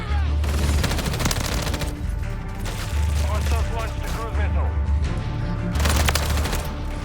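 Remote turret firing in the video game Modern Warfare 3, rapid automatic gunfire with intermittent bursts and booms over a steady low rumble, while players talk.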